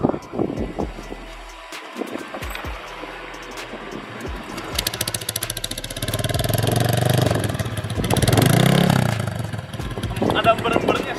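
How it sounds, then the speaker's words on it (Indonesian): Honda Beat scooter with a modified, non-standard engine and a CLD C7 racing exhaust, revving in bursts that swell to a loud, raspy roar and then drop back, close to the mic, with people talking nearby. "Ini suaranya bisa lebih garang karena kebantu dari mesin yang udah nggak standar ya."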